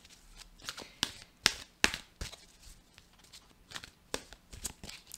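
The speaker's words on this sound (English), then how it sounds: "I'm going to do a little bit more shuffling and then we will read the cards." A deck of tarot cards is shuffled by hand, with sharp riffling snaps and softer slides in irregular bursts close up, quiet between strokes.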